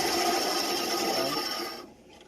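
A bandsaw whines steadily at close range, then its sound drops away abruptly as the machine is switched off and winds down.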